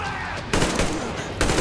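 Rifle fire in Metro Exodus crackles in sharp bursts, a couple of loud cracks separated by brief pauses amid busy in-game background noise.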